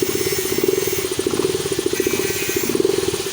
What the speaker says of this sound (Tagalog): umandar na ang motor, tapos malakas na ang kompresyon niya